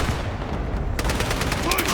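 Gunfire and RPG launches in the Battlefield 6 video game, a dense, continuous barrage of shots and blasts with no pause, loud and close throughout.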